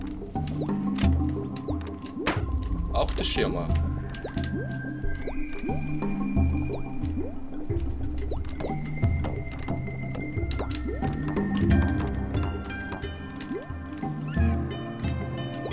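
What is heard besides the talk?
collecting water, dripping sounds in the video game Wuppo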